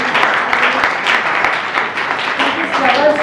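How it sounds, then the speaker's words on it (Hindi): Applause at a book launch for Rajshree Rangwani's Sakaratmak Soch, a dense, steady wash of many hands clapping at once. It fills the whole stretch at a fairly loud, even level. "तो एक जोरदार तालियां।"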